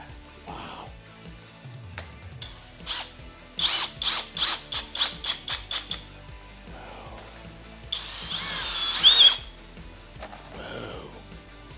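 Cordless power drill driving screws with Torx bits from a Lowe's accessory kit, heard as a run of about nine short, even bursts, then a longer grinding whir, with brief talk between.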